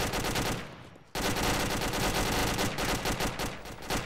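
Rapid automatic gunfire rattles loudly in the military shooter ArmA 2, a sustained burst, a brief lull, then more dense continuous firing close by.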